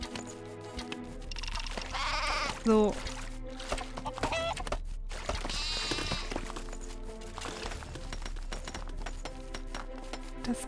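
Bleating sheep and clucking fowl in Craft The World, repeated animal calls mixed with game sounds and background music, someone speaking briefly.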